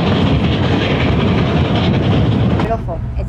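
An early 20th century steam train rolls loudly on the rails with a continuous heavy rumble and rattle, close by, easing slightly at the end.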